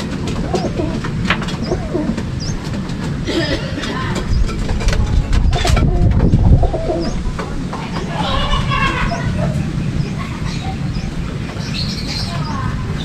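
Racing pigeons coo close by in low, repeated throaty calls, with a steady rumble and some rustling and handling noises throughout.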